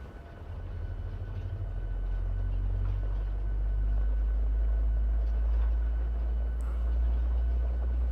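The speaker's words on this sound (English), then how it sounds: "And we will start engine number 2." Engine number two of a Boeing 737-700 starting in the PMDG flight simulator: a low, steady rumble builds over the first second and then holds loud and even, with faint clicks on top.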